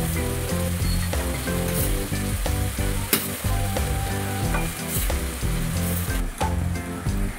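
Cooled rice stirred into fried rice masala in a pan, with a loud, constant sizzle and rhythmic scraping and tapping of a spatula against the pan throughout.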